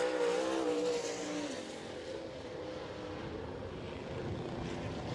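A sprint car from the All Star Circuit of Champions on a timed lap at Attica's dirt track in Ohio, its engine a loud, continuous roar that drops in pitch as it passes and fades slightly into the distance.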